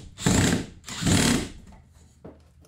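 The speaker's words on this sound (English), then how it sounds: "Just going in with the drill with nothing." A power drill runs in two short, loud bursts, driving with no screw into a grill cart frame, followed by a fainter brief whir near the end.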